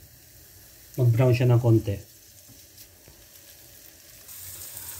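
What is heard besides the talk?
guanciale sizzling in a pan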